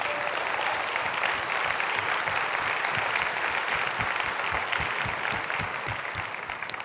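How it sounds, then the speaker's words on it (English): An audience at a health quality conference claps steadily, a dense, loud wash of applause that holds for about seven seconds with no talk over it. "a huge round of applause."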